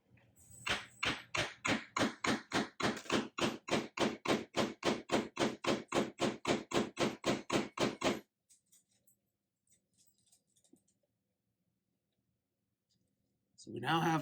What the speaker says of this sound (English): and hammer it in there.